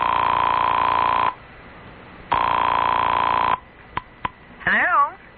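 A telephone rings with two long electronic bursts separated by a pause, loud and close, followed by a couple of short clicks as the receiver is handled and then a brief voice.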